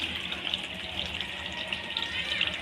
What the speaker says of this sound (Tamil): அந்த மிக்ஸி ஜாரு கழுவி லைட்டாக தண்ணி ஊற்றுற